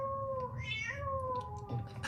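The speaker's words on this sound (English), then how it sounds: "He's mouthing the cat noise." A cat meows in a short series of drawn-out, tonal cries with rising and falling pitch, fairly close and clear over a quiet low background.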